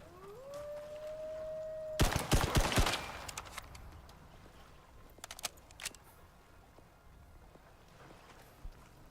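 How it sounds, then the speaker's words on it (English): Gun in the Icarus survival game fired until its magazine runs dry, a loud rapid burst of shots followed by scattered sharp cracks and clicks. "I had like 6 bullets left, so I was just emptying out the magazine"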